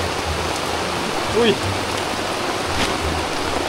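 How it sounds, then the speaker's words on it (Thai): Heavy rain pouring onto a tarp shelter at a forest campsite in Thailand; a dense, steady hiss of drumming rain fills the whole clip, with a brief exclamation from a person near the middle. "ฝนมันตกไม่เบานะฮะอยู่ใต้ทาร์ปก็ใช่ว่าจะรอด"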